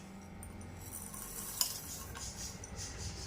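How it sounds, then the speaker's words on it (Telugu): A spoon stirs cloves and star anise in a small hot kadai, giving soft scraping and light clinks with a faint sizzle, steady and close, with no one talking. "ఇలాగ వేసేసుకొని మంచిగా 1 స్పూన్తో మనం కలుపుకుందామండి."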